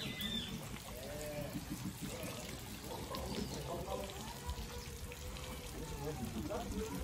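Water pours and trickles steadily through an old water-powered mill, the wheel turning to pound flour, with a continuous splashing flow under conversation and faint birdsong nearby.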